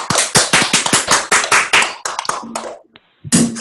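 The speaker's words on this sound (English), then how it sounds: "Round of applause." A morning-call audience gives a round of applause: a dense burst of clapping for about two seconds, thinning to a few scattered claps, a brief pause, then one more loud burst at the end.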